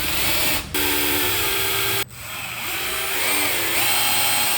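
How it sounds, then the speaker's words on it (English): A power drill spins a long-idle jet boat engine to pump oil through it, a steady loud whine with two sharp cutouts as the trigger is released and pressed again, its pitch wavering toward the end. "Drill, let's see what happens."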